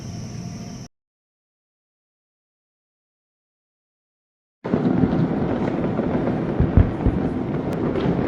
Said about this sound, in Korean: 여러 곳에서 불꽃놀이가 진행되고 있습니다.